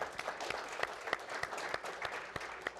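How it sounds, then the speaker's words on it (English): Applause from an audience at an education leadership panel event, a moderate crowd clapping steadily with distinct close claps popping out over a softer background patter. "Round of applause, please."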